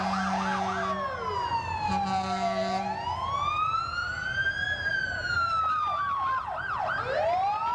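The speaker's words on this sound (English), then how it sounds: "In case you hadn't noticed, we have fire engines going on." Fire engine sirens wail and yelp continuously at a 1988 FunFest parade, rising and falling in long sweeps and quick warbles. They are loud and close, with a low steady horn-like tone and crowd and road noise underneath.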